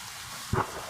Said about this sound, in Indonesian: Hujan. Iya hujan ah.